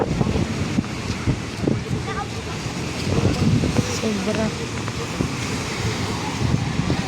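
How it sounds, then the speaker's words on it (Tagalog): Wind gusts across an outdoor spot, buffeting the microphone with a steady low roar, while people talk and call out nearby throughout. "Sarap ng hangin dito banda"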